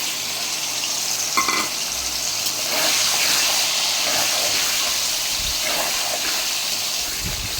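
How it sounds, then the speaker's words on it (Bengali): Prawns frying in oil, a continuous close hiss of sizzling with a few soft clatters and stirring sounds, no voices. "চিংড়ি মাছটা ভাজা হচ্ছে, ভালো করে ভাজা হয়ে গেল"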